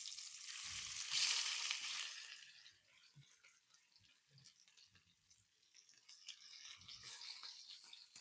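Steelhead trout fillets frying in a pan with garlic and onion, a steady hiss and sizzle swelling early, easing, then rising again toward the end, with faint stirring clicks and no talking.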